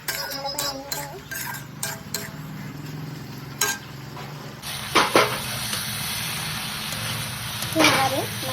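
Poppy seed paste with green chilli being stirred in a pan, with soft scraping and light sizzling running throughout alongside a few clinks of utensil on metal, under ongoing talk.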